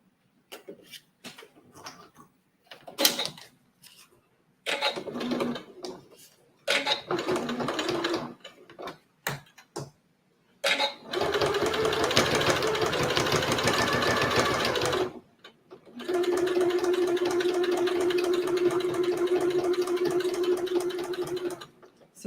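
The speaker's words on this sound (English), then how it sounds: "So I'm just going to start here, maybe do just one little back stitch over those other stitches I started on and then go on" A domestic sewing machine stitches Italian leather, with back stitching over earlier stitches: first a series of short, choppy bursts, then two long steady runs of close, continuous whirring, separated by a brief pause.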